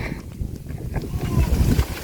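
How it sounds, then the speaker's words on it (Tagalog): Strong wind gusts whip across an open outdoor spot where bamboo sways, a loud rumbling buffet building toward the end, with people talking over it. "Ganyan kalakas yung hangin"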